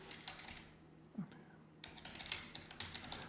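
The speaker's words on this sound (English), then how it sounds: "Administrator, type in my password" Someone types a password on a computer keyboard, with quick soft clicks in short bursts, a brief pause, then more keystrokes close by.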